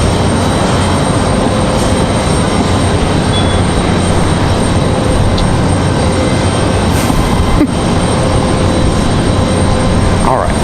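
A FedEx Boeing 767-300 jet at Raleigh-Durham airport gives off a loud, steady broadband roar that fills the whole stretch without a break.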